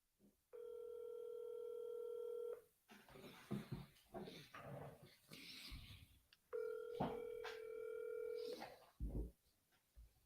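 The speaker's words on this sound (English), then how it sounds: "we're dialing while we're doing it" A telephone line rings during a cold call to a for-sale-by-owner home seller, with two steady ring tones of about two seconds each. Clicks and faint background noise fill the gap between them.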